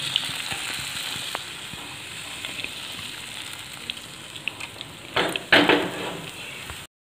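Rice and coconut water appam batter cooking in a hot pan, giving a soft, steady sizzle at moderate level, then a short louder burst of clattering and scraping near the end; nobody speaks.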